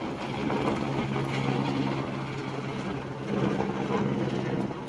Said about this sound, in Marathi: चाललं हेलिकॉप्टर.